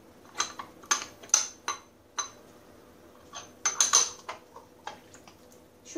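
A clean ceramic container is handled in a kitchen, giving sharp clinks and knocks in uneven bursts, close and fairly quiet with no voices.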